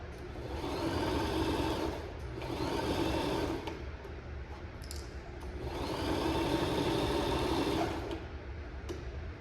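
A Brother sewing machine whirs steadily in several long runs, stopping and starting again, loud and close with a mechanical hum.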